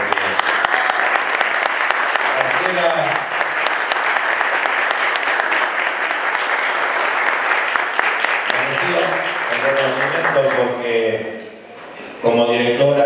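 Loud, sustained applause fills a council chamber during an extraordinary session marking International Women's Day, with voices talking over the clapping before it briefly fades and swells again near the end.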